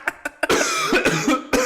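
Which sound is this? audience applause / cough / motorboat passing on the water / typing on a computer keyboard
cough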